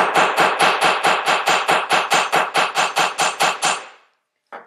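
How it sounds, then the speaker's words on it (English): A hammer flattening the end of 16 gauge copper wire for a pendant, about twenty rapid, evenly spaced, loud metallic strikes that fade out, followed by one brief knock. "What I like to do is kind of hammer the one end of my wire flat"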